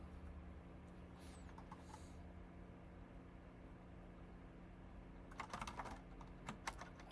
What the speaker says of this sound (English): Dude, I'm still mistyping on this fucking keyboard.